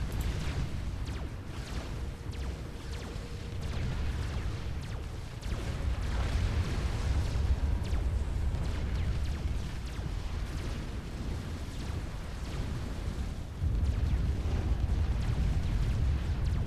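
Continuous rumbling explosions and booming blasts from the real-time strategy game Supreme Commander: Forged Alliance, a dense, loud low-frequency roar of battle sustained throughout with no talking.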